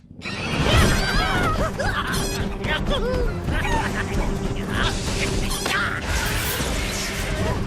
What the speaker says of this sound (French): Laissez l'oiseau tranquille.